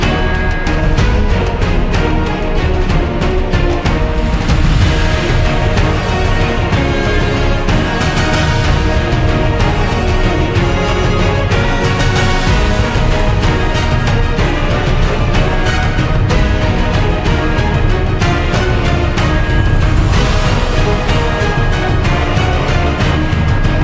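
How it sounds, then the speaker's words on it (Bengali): Heavy spray from Niagara Falls on the Canadian side pours down like rain, a loud, steady, dense roar with no pauses and no voices across the whole stretch. "লিটারালি মাথার উপরে বৃষ্টি হচ্ছে, ঝমঝম করে বৃষ্টি হচ্ছে।"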